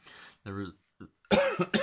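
A few short coughs from a man with a cold, amid voiced, speech-like sounds, close to the mic, with brief pauses between bursts.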